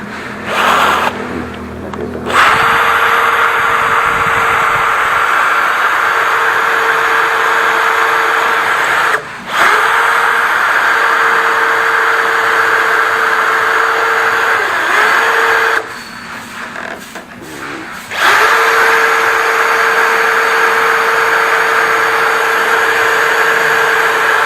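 A power drill runs loud and steady in long sustained bursts, stopping briefly twice before whirring back up, while building a wooden stand for a woodturning lathe.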